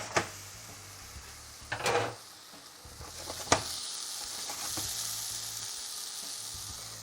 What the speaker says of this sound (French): Ça crépite, ça chante dans la poêle.